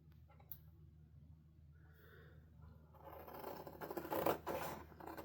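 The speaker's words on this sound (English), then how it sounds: "So I'm going to go ahead and cut this part out." Scissors cutting a part out of a file folder, with faint snipping and scraping that builds into louder, close crunchy cuts over the last two seconds.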